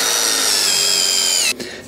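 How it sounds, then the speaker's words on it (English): A power drill with a 3/16 inch bit whines loudly and steadily as it bores through a wooden support board. The motor cuts off near the end, leaving a short rattle. "I'm gonna use a 3/16 inch drill bit, and I'm going to just drill right through our support board"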